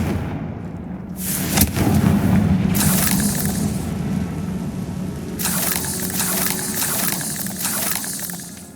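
A Confringo explosion spell in the video game Hogwarts Legacy sets off a loud, close blast, followed by a long rumbling roar that swells again with crackling debris before fading.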